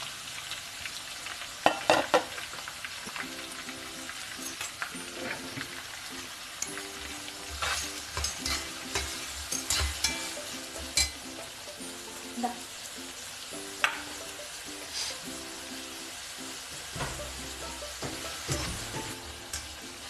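Two medium chopped onions with green chili sautéing in a pan, a constant sizzle broken by frequent scraping and clinking stirs of a spoon against the pan, close and busy throughout.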